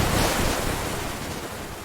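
Steady rush of ocean waves and strong wind in an animated cartoon storm scene, a loud continuous roar with no voices.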